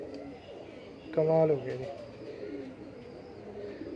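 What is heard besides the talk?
pigeons cooing at a breeding setup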